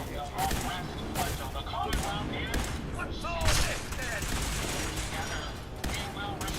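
Gunfire in Fallout 4 rattles out in bursts of sharp shots and thuds, mixed with clanking and other game effects, while a voice talks over the action.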